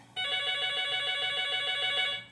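A telephone bell rings steadily and loudly for about two seconds in a quiet indoor room, one continuous trilling burst with no talking over it.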